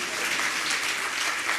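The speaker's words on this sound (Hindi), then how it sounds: "एक बार तालियां तो बजाओ" Applause from the audience at a Jain pravachan in Madhya Pradesh, a dense, steady clapping that fills the whole brief moment with no voice over it.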